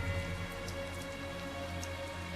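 Steady rain falling in a fantasy role-playing game, a constant even wash of drops that stays loud and unbroken from start to finish, with no talking.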